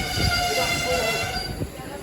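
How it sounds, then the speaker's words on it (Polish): Passenger train with Ukrainian railway wagons passing close by, a loud continuous rumble and rattle of wagons with a tonal squeal over the rolling wheels. "Wyjątkowo pociąg do Kijowa, a nie z Kijowa."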